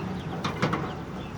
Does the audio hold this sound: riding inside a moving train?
no